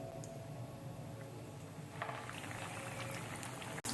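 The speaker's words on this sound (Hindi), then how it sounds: "अब इसमें कबाब ऐड करेंगे फ्राई करने के लिए।" Kebabs drop into hot oil in a pan, setting off a steady bubbling fry that grows busier partway through, heard close with no talk.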